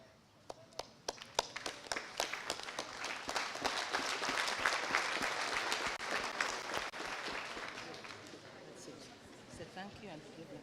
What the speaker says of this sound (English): allow us to stand and give a round of applause to the deans of students who have prepared the function